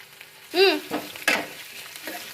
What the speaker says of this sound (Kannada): ಅದು ಎಣ್ಣೆಯಲ್ಲಿ ಚೆನ್ನಾಗಿ ಫ್ರೈ ಆಗಬೇಕು ಸ್ವಲ್ಪ ಕೆಂಪಾಗೋ ತನಕ ಫ್ರೈ ಮಾಡ್ಕೋಬೇಕು